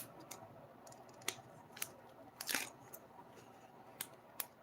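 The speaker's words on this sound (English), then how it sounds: "I'm going to just peel off that backer tape" Backer tape peeled from a toner card front with Deco Foil during a cardmaking session, heard as a series of sharp crackling ticks and one longer rasping tear up close, quiet and alone.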